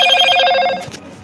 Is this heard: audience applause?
no